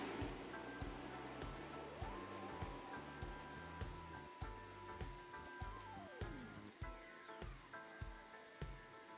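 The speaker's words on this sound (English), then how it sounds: "So hopefully the truck passes by." A truck rolls past outside an apartment in the quiet early morning, its engine tone rising and falling over several seconds at a moderate distance, with a steady low rumble underneath.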